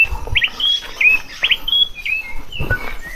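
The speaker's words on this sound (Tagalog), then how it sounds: "Mga ibon na nagtutunugan." Birds chirp repeatedly in a forest on the way to Mount Gerizim, quick high tweets scattered across the moment, with light rustling and footsteps underneath in an open outdoor setting.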